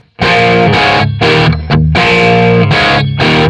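Distorted electric guitar chugs short, clipped power chords in a guitar part from a song, loud and close, with chords cut off in a choppy, staggered rhythm and no voices.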